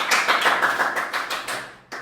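Applause from a fourth-grade elementary classroom in Indonesia, a brief burst of quick overlapping claps from several children that tapers off, followed by one last clap.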